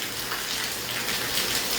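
Light rain begins falling in Hisar as a soft, even hiss of drizzle, steady and moderately quiet throughout, with no talking.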